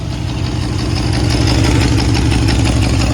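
A Mercedes W126 560SEL with a clogged catalytic converter and its oxygen sensor removed from the exhaust idles steadily, a loud, close, continuous engine rumble with no pauses.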